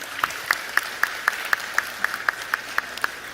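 Audience at a BPIP event claps in a slow, perfectly even rhythm, about four sharp claps per second, moderately faint and spaced rather than a dense roar.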